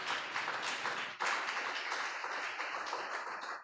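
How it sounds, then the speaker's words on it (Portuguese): A church congregation at a Wednesday night service applauds, a steady wash of many hands clapping at moderate distance, fairly faint, with a brief dip before resuming, no speech over it. "você pode aplaudir o Senhor"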